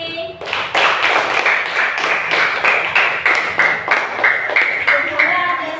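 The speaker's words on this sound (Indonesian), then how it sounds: "sekarang kita tepuk tangan buat hari ini" Schoolchildren in a classroom clap their hands together at the end of a lesson, a steady run of sharp, close claps over several seconds with a few voices mixed in.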